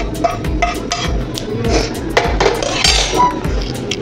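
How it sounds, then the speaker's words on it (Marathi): Cooked food being scraped from a pan into a bowl while making a village-style chicken curry: a steady run of metal spoon clinks and scrapes against pan and bowl, close by, with no talk. "ते वाटीत काढून घेऊया।"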